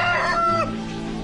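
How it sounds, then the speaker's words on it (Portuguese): A rooster crows nearby, a single drawn-out call with a rising cry, followed by a brief clucking note at the end. "O galo anuncia a luz da manhã."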